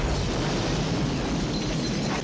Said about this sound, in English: They love their explosions, don't they?